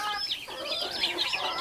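A rooster stuck somewhere on a farm gives quick, close clucking calls in a short rising-and-falling burst.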